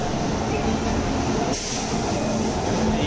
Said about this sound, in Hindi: ये हमारी ट्रेन अभी यहाँ से रवाना हो चुकी है